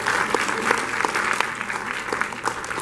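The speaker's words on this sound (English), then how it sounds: "Let's give a round of applause" An audience claps at the Frida Cinema after a Gremlins Q&A session with Zach Galligan, a dense, steady round of applause lasting the whole few seconds with no voices over it.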